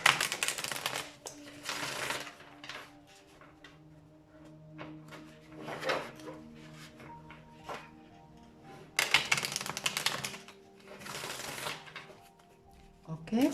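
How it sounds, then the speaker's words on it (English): Tarot cards shuffled quickly by hand, with bursts of riffling and flicking in uneven clusters, loud and close, separated by quieter shuffling and softer taps of the deck. "Okay, so I'm gonna shuffle"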